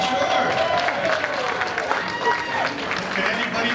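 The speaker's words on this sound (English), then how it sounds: "Clap it up, sure." Audience applause fills a stand-up comedy show, a steady dense wash of clapping and crowd noise with voices mixed in throughout.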